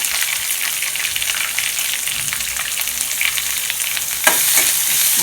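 Sliced big onions and curry leaves fry in hot oil for a cluster bean poriyal, giving a dense, loud, continuous sizzle with faint stirring scrapes. A louder hiss flares near the end, and no one speaks.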